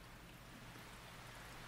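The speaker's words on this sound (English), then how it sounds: "the sound of rain is so hypnotic and so peaceful" Rain falling steadily in the intro of a music track, a soft, even hiss of drops on surfaces with no talking, low and constant throughout.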